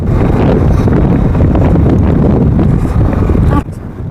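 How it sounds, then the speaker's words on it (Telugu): A cool wind blows in from open fields, rumbling steadily and loudly across the microphone for several seconds with a person talking underneath before it briefly drops off. "పొలాల్లోంచి చల్లటి గాలి అయితే వచ్చింది"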